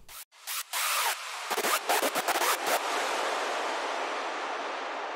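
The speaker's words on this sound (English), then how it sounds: "I just have this balance which increases the amount of reverb that comes in as the screech progresses." A synthesized screech with a high-pass filter sounds as a series of harsh, stuttering bursts, then swells into a sustained noisy wash as reverb increases and slowly trails off, loud and alone.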